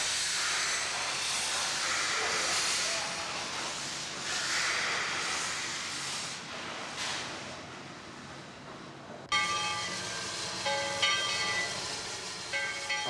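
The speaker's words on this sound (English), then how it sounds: "it has sounds that, starting with very young children, you know, they can emulate those sounds and identify with a steam engine" A historic steam locomotive on a heritage tourist railroad hisses with a broad, sustained rush of steam, fading and swelling, then giving way to a tonal, ringing mechanical sound near the end.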